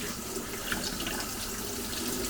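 Warm tap water pours steadily over ceramic water filters being rinsed in a sink, a continuous close, loud rushing hiss with no breaks.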